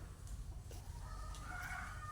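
Several chickens cluck and squawk nearby, a steady, busy commotion of hen calls across the two seconds with no talking.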